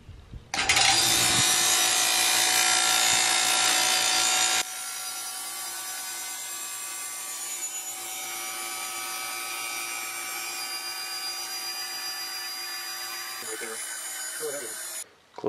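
A vacuum pump on a chamber used for glazing pottery runs loud and steady with a constant droning whine. It drops to a lower hum partway through, and faint speech comes in near the end.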